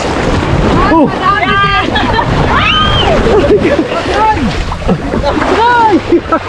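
Men push a heavy wooden boat into the sea through waves, with splashing water and wind gusting over the microphone. Excited shouting and talking run throughout, close and loud.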